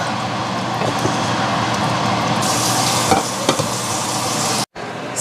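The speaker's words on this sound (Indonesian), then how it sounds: "Karena wajannya akan aku gunakan untuk memasak udang." Shrimp cooking in a wok gives a constant loud sizzle with some stirring scrapes, then cuts off briefly near the end before the sizzle returns.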